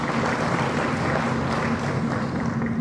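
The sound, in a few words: audience applause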